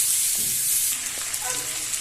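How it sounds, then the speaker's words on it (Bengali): Thinly sliced potatoes fry in hot oil in a home kitchen, giving a steady, even sizzle with a few faint clinks, close and fairly quiet throughout. "পাতলা করে কেটে রাখা আলু ভেজে নিলাম"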